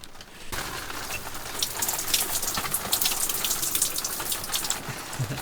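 Water pours steadily from a small shower inside a camper van, starting abruptly and then hissing and splattering at a constant moderate level with no voices.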